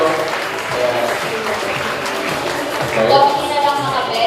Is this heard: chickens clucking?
no